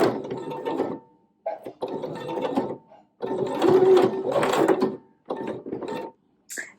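A sewing machine stitches fabric in several close, loud bursts of rapid mechanical whirring and needle chatter, separated by short pauses as the stitching stops and restarts.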